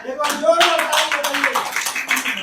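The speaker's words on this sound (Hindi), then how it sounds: "उसके लिए ताली हो जाए" Audience applause breaks out at a Hindi kavi sammelan (poetry gathering) in Bhopal: a short burst of clapping from a crowd that is loud at first and fades slightly, with a voice heard alongside.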